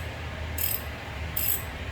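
A ratchet works 14 mm caliper bolts loose on the front brakes of a 2012 Chrysler 200, giving two short, close bursts of bright clicking over a low steady hum.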